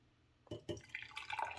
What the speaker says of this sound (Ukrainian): Так, прокип'ятили буквально пару хвилин. Так, процідили.